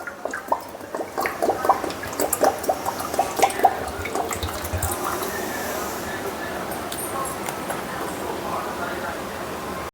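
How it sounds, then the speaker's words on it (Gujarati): Cold water pours steadily over homemade cheese in a continuous rushing splash, preceded by a few clinks and light handling noises, close by. "આ રીતે ઠંડુ પાણી નાખવાનું આપણે"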